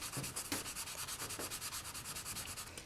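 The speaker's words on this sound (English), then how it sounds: "as soon as we're finished sanding all of the edges of our beads" Close, rhythmic scratchy rubbing of sandpaper against the edges of a small polymer clay bead, quick back-and-forth strokes with no talking.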